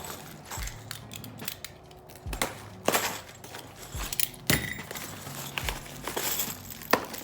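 Box of prefab kitchen cabinet brackets and screws handled on a workbench, giving scattered clinks, rattles and sharp knocks at irregular intervals, fairly close, with no talk.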